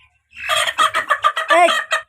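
Native village chickens in Assam give a close, clear run of rapid clucks and short squawking calls, with no talk.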